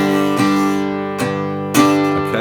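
A guitar is strummed several times, chords ringing out between strokes in a loose rhythm, close and fairly loud.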